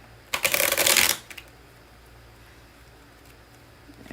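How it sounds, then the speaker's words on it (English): A tarot card deck is shuffled in one quick, crisp riffling burst of about a second, then quiet room tone. "Let's shuffle you one more time."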